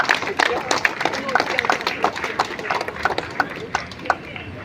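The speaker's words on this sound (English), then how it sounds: "A big round of applause for her." An audience at a tennis tribute event breaks into applause, a close, steady patter of many hands with sharp individual claps standing out, continuing for several seconds.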